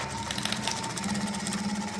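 A sewing machine runs steadily, stitching a jute bag, with a continuous motor hum and a fast needle rhythm throughout.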